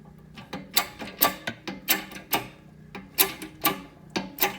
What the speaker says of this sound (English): Tighten my press up.